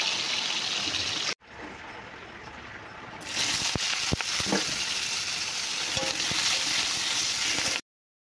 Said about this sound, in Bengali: তো চলুন এখন ডিমগুলোকে ভেজে নেওয়া যাক।